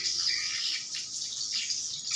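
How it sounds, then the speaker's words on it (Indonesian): A dense chorus of high, twittering chirps from a flock of thousands of birds, continuous and slightly distant, with no voices. "Ini ribuan burung koloni besar singgah."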